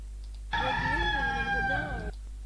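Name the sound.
rooster crowing sound effect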